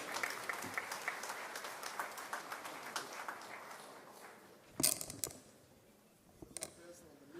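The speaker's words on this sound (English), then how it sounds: "let's put our hands together and give a big round of applause to our guest of honor, Shri Anand Narasimhan." An audience applauds a guest of honor at the VIT gravVITas '25 event, with dense, even clapping that tapers off into quiet, followed by a few scattered claps.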